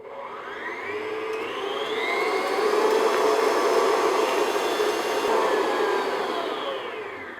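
A stand mixer whirs steadily while beating eggs and sugar until thick, a loud continuous motor whine that swells slightly and holds, with no talking.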